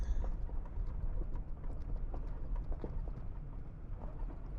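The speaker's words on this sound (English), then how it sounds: "You kind of see on the left, oh, he's running now. It's a calf." A young calf running on ranch ground with many cattle around, its hooves giving a continuous low, muffled thudding over steady wind-like rumble, no voices.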